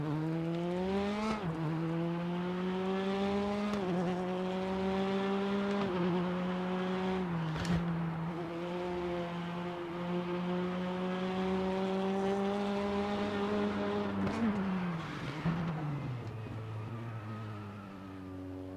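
Simulated car engine in a PC racing video game, driven with a gamepad: a steady loud droning motor with repeated rises and dips in pitch as it revs through gears, no voices.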